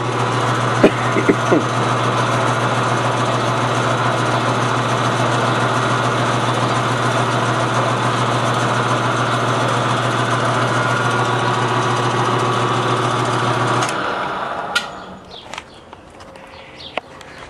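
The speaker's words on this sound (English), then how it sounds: "Reverse the lathe." A metal lathe runs in reverse with a steady, loud mechanical hum and whine, then winds down and stops near the end, leaving faint clicks and quiet.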